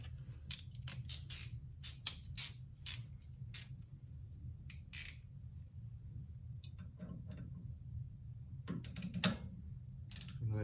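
A hand ratchet clicks in quick bursts while snugging a bolt that goes into aluminum on a Trans Am racing brake kit rotor of a 1968 Ford Mustang Fastback, sharp close clicks separated by pauses over a low hum.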